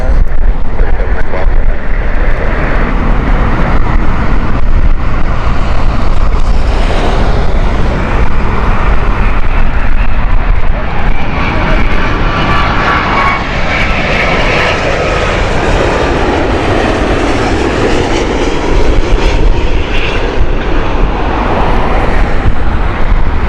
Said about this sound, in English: This is the 787-8 here from British Airways.